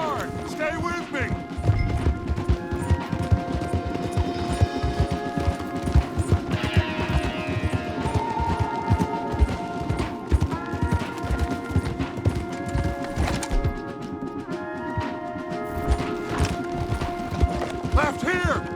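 Horses gallop hard in Red Dead Redemption 2, a steady, loud drumming of hooves running through the whole stretch, layered over game music and ambient effects.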